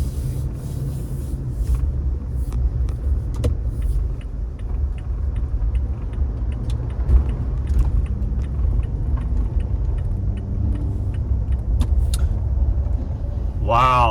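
A 2021 Toyota Tacoma TRD Off Road rolls along streets and freeway on new Laufenn X FIT HT tires, giving a steady, even low road rumble and engine drone throughout, with occasional faint clicks above it.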